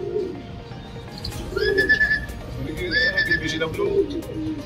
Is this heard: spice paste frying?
no